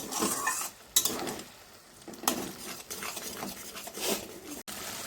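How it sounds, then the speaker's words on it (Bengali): Ground tomato is sautéed with a spice mix in a pan for an egg dish. A soft, uneven sizzle runs under intermittent stirring scrapes and a few utensil clicks, fairly quiet and close. No one speaks. "এবার এই টমেটোটাও বেশ ভালো মতন আমি কষিয়ে নেব।"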